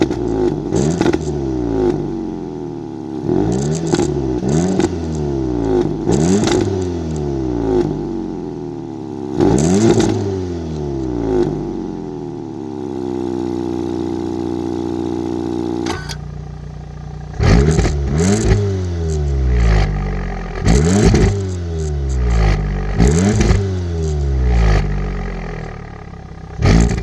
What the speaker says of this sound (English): let's take a listen to the uninterrupted sound of the exhaust